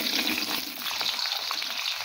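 Shallots, garlic and candlenuts frying in hot oil in a wok, a steady dense sizzle with faint stirring scrapes, close and continuous throughout.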